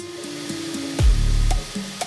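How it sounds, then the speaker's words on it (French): The cooling fan of a Bambu Lab A2L 3D printer whirs with a steady tonal hum that steps in pitch, swelling into a louder rushing burst midway, with faint ticks over the drone. "L'élément le plus bruyant, c'est encore et toujours le ventilateur."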